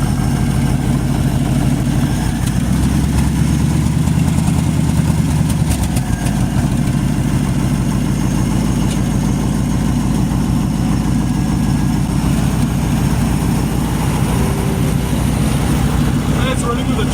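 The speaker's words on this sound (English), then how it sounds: "And it's running with a choke open." A 1966 Ford F100 engine idles steadily with the choke open, a loud continuous low rumble throughout.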